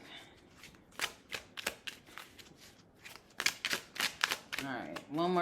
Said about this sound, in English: Sorry, I know I shuffle a lot, but I like to see what Spirit puts out.